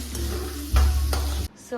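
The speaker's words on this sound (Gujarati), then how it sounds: "મમ્મીજી વઘારે છે ખીચડી જોઈ શકો છો તમે" Tempering for khichdi sizzling in a pot, with a loud, close, short burst of frying and stirring that cuts off before a brief tail.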